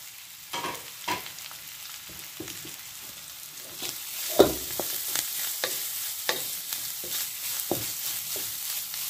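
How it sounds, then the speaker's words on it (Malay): Grated coconut sautéing in a pan with a steady soft sizzle and repeated scraping stirs of a spoon, close and moderately quiet, no talking. "Kita tumis ni dulu sekejap. Okey, sekarang masukkan kelapa parut."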